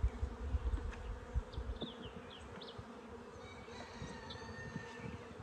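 Honey bees buzzing around a hive frame of nectar and pollen, a dense continuous low hum of many insects close by with faint intermittent higher whines, no talking.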